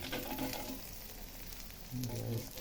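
Village desi egg frying in hot oil over a gas flame, sizzling steadily and crackling throughout, swelling louder near the end, with faint voices in the background.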